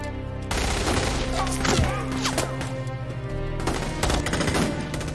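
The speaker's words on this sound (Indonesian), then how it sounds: "terjadi baku tembak antara Hirouchi dan pasukan Amerika" Gunfire exchange in a war film between Japanese soldiers and American troops, dense bursts of shots over a loud, continuous battle background and score, with no clear pauses.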